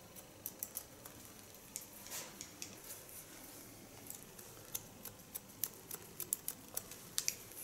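Cobalt scissors snip in quick, irregular clicks while point cutting a woman's hair, faint and close, with soft small crisp snips spread across the stretch and no talking.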